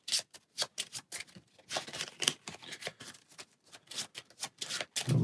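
A deck of cards is shuffled in a Marvel Champions game, with a rapid run of crisp riffling bursts repeating in quick succession, close and clear with no talking.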